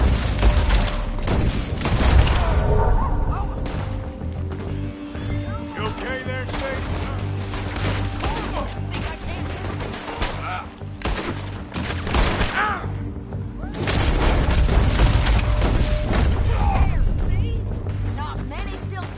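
Dense bursts of gunfire in a Wild West shootout in Red Dead Redemption 2, loud and continuous with overlapping shots and booms, mixed with voices talking throughout.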